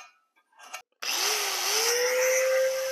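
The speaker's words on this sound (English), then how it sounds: "let's mark and grind out our spot for our steel" A power grinder cuts into a steel transmission crossmember on a G-body car. It starts with a few short bursts, then runs as a loud, steady, harsh whine that climbs in pitch as it spins up, with no voices.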